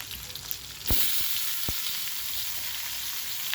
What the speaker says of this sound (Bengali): মাছগুলো ভেজে তুলে রাখব এখন আমি